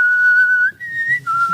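A person whistles a short tune of a few clear, sustained notes, close and loud.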